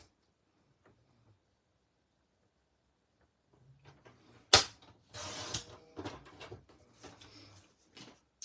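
A paper trimmer slices through cardstock: after near silence, a sharp snap is followed by a rasping slide of the blade and a series of small clicks and scrapes, close and fairly quiet.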